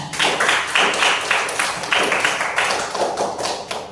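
A ninth-grade classroom group claps for a presenting team, a run of fairly near, sharp, rhythmic claps with a tapping quality, continuing steadily for several seconds.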